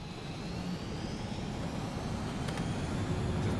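A fighter jet takes off in the video game Ace Combat 7, a steady, loud, broadband engine roar that holds evenly throughout with no voices.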